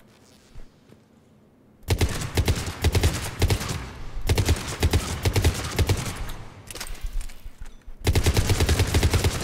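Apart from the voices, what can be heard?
Cerberus Harrier rifle gunfire in Mass Effect 3 video game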